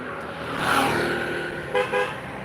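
A cartoon vehicle speeds closer with a rising engine whoosh, then two short honks of its horn near the end, loud and close, with no talk.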